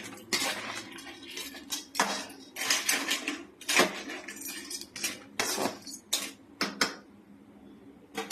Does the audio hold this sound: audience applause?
no